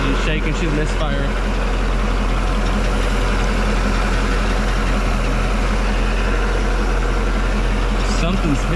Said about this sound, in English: This engine's shaking.